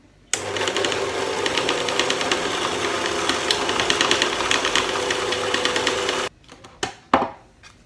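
An electric mixer beats sugar and eggs for a cake batter, a steady buzzing whir for about six seconds before stopping, followed by a few clatters.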